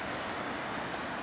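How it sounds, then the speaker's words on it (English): A steady, broadband rush of a river flowing, swollen with snowmelt in Alexandria, Virginia, fills the clip, a continuous wash with no breaks or voices. "There's the river. You can probably hear it in the background."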